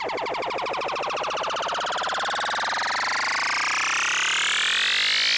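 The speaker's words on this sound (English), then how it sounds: "You already could hear how the pitch rises, how the pitch increases, and how tension is basically built up." A looped audio snippet in FL Studio is turned into a riser build-up, its repeating pattern sweeping steadily upward in pitch and growing louder for several seconds without any voice.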